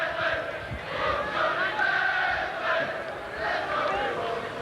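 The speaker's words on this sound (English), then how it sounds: "you can hear what the Leeds crowd think of him" Leeds rugby league crowd at Warrington chanting in support of injured player John Bentley, a loud rhythmic mass of voices rising and falling in waves, sustained throughout with stadium echo.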